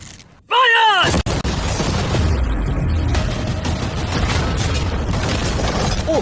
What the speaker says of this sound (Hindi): अब हम तुम्हारी नई यॉट पर कैनन्स को शूट करने वाले हैं